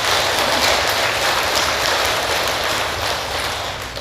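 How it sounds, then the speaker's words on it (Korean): Audience clapping together at a Sunday Buddhist dharma service in a temple hall, a steady dense wash of applause that carries on for the whole stretch at an even loudness. "다들 수고해 주신 우리 여러분을 위해서 스스로 박수 한번 드리겠습니다"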